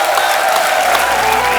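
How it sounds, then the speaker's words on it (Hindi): Studio audience on The Kapil Sharma Show applauding guests, a loud, dense wall of clapping with some crowd noise and faint cheers blended in, continuous throughout with a sustained tonal hum beneath. "तो एक बार जोरदार तालियां हो जाएं हमारे मेहमानों के लिए।"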